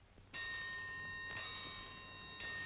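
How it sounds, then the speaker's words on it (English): A time interval bell at a 12-inch gun battery with a barbette carriage rings sharply three times. Each clear metallic strike is followed by a long sustained ring over a low background hum. "The time interval bell gives the signal for firing."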